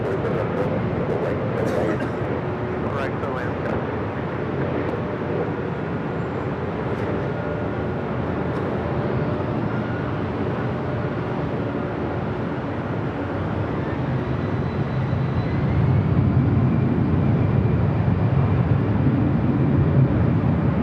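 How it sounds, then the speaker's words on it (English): Continuous broad jet roar of an Allegiant Air airliner rolling down runway 24 Left at Los Angeles International Airport, heard at a distance and swelling louder and lower toward the end. "Allegiance flight rolling down 24 left."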